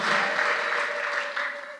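Dense, steady applause from a church congregation, loud and sustained throughout, with scattered cheering and ululation mixed in.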